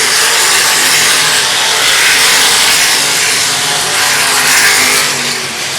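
Race cars lapping a dirt speedway with a tacky track, a loud continuous roar of several engines close by, swelling and easing as the pack circles.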